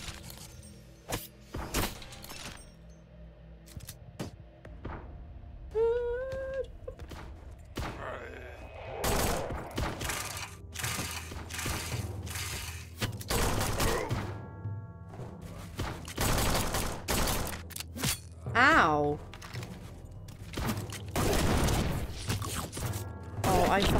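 Gunshots ring out in the horror shooter Forgive Me Father 2, sharp separate cracks and short bursts scattered through the stretch, mixed with mechanical clanks and game effects, while someone talks between shots.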